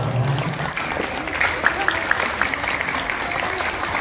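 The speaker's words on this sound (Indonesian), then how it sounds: "Tepuk tangan untuk beliau" Applause from a primary school audience at a disaster mitigation awareness session in Surabaya, a steady wash of clapping that stays fairly even throughout, with a faint voice briefly audible at the start.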